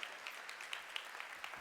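Scattered audience applause in a lecture or talk setting, a faint, short patter of hand claps with no voices over it.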